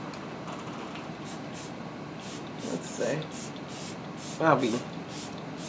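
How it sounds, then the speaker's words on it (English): A Peach and Lily Glass Skin Veil Mist bottle gives a series of short, close, hissing sprays in quick succession, with a person speaking briefly between them. "Close your mouth when you spray that."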